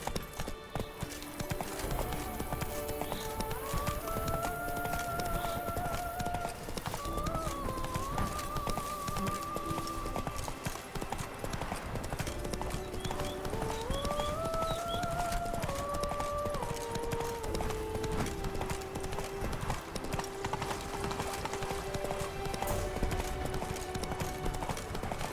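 Horse Roach's hooves clip-clop steadily through The Witcher video game, a continuous rhythmic trot under swelling orchestral music, with a rider's occasional voice.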